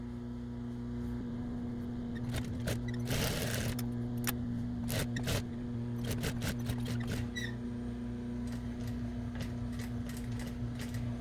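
A home sewing machine hems the inside edge of a duck hooded towel, stitching in quiet, uneven bursts of rapid clatter over a steady low motor hum.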